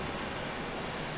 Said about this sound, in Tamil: சரி, ரொம்ப மழை பெய்யுறா.